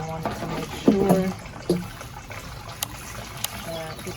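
Water with a little fertilizer poured into a container holding a blue spruce, a few splashing gurgles and trickles up close, followed by faint dripping and some soft background noise.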